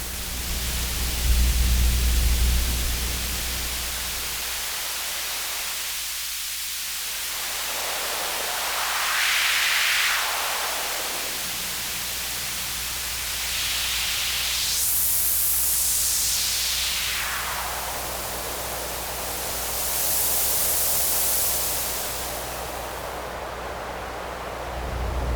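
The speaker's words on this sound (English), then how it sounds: "we can equalize this noise sound to be able to bring out different frequency ranges" Serge CGS31 Elby Designs digital noise generator producing steady white noise, a loud continuous hiss whose tone is swept by equalization, slowly shifting between darker and brighter bands; no voices.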